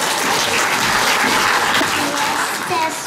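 An audience applauds a children's performance at an Easter exhibition, steady dense clapping throughout with faint voices underneath.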